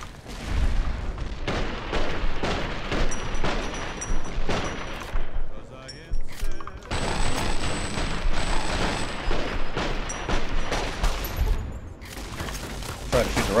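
Rapid rifle gunfire and booming explosions in the video game Fallout New Vegas, dense volleys of loud shots continuing throughout with brief lulls, a voice talking over the battle.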